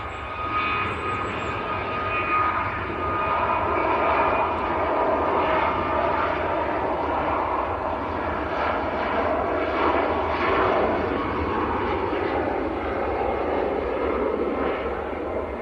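A TUI airliner bound for Sal, Cape Verde, takes off at Manchester Airport with a sustained heavy jet roar, loud and steady throughout.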